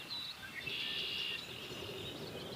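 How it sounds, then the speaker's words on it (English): Red-winged blackbird and common yellowthroat sing faintly in the distance along the Appalachian Trail, a buzzy trill and a thin high call drifting over a soft outdoor hush. "It's also a red-winged blackbird and a common yellowthroat in the background."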